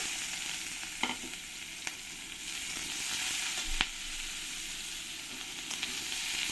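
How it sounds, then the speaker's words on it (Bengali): Crushed garlic frying in oil until it browns, a soft, steady sizzle with a few scattered pops and light utensil taps, fairly faint and without any voices. "রসুনটাকে আমি ভালো করে একটু লাল লাল করেই ভেজে নেব"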